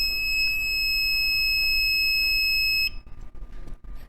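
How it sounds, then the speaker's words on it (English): An electronic unit with a keypad fault, an OP 900 / T900, emits a piercing continuous high-pitched beep for about three seconds, then cuts off, leaving faint handling noise. "annoying beeping sound"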